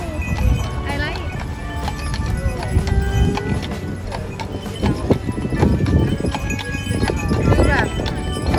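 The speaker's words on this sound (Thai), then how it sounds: "รถม้านะคะเจ๋งมากเลยสวยมากเลย" Horse-drawn carriage hooves clip-clop steadily on a downtown Oklahoma City street, close and continuous, with someone talking over the sound throughout.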